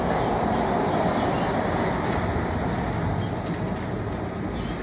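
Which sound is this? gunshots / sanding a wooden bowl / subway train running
subway train running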